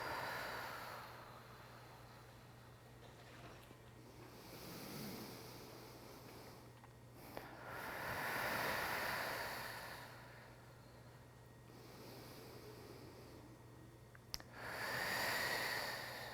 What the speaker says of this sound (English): just really focus on the sound of your breath